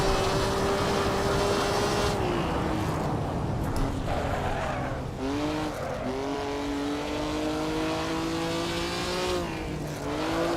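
A Maserati engine roars and revs in a racing video game, its pitch sliding up and down through gear changes and corners, with tire squeal mixed in and a steady, loud drone throughout.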